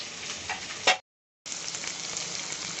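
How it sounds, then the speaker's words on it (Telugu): Sliced onions, green chilli pieces and curry leaves sizzle steadily in hot oil in a pan for a prawn fry, a continuous close crackling hiss with a brief loud burst, a short dropout, then the frying resumes. "ఉల్లిపాయ ముక్కలు, కొద్దిగా కరివేపాకు వేసుకొని ఒక 5 minutes ఫ్రై చేద్దాం."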